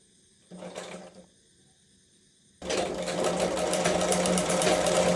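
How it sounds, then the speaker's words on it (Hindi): A sewing machine stitching cloth, first in a brief burst, then after a pause running steadily and loudly for the rest of the clip, close by. "ये जब हम इस प्रकार से सिलाई चलाते हैं"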